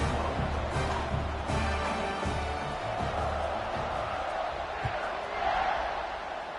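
A large stadium crowd roars and cheers at a football game just before kickoff, a sustained loud mass of voices with a few sharper shouts rising above the din.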